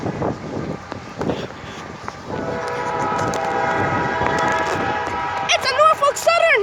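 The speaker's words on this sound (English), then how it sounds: "Another train! Another train!" A Norfolk Southern freight train passes close by, its rumble building as a loud horn blares for a few seconds, and an excited voice cries out at the end.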